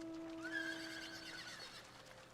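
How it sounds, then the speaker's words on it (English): A horse whinnies once in Final Fantasy XIV, a rising then falling neigh over a steady electronic tone, with faint hoof clops in the background. "summon the horse"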